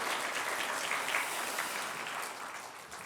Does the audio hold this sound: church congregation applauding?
yes